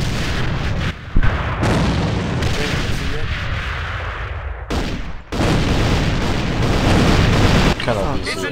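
Loud booming explosions from an enemy grenade in the Alliance of Valiant Arms game, mixed with heavy gunfire and battle noise, with brief dropouts between the blasts.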